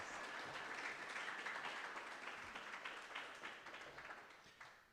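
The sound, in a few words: audience applause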